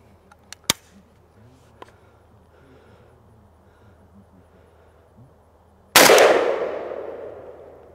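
A single loud, close 7.62x39 rifle shot from a Palmetto State Armory GF3 AK cracks sharply and rings out in a long decaying tail, preceded by a few faint clicks and handling taps.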